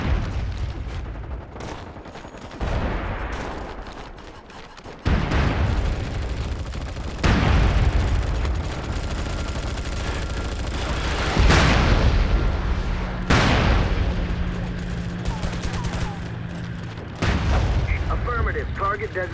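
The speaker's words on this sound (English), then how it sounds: "Roger, sensor shells incoming." Incoming sensor shells exploding in the shooter video game MAG, a series of heavy booms and blasts spaced a few seconds apart over a continuous rumble of battlefield noise and gunfire, loud and close.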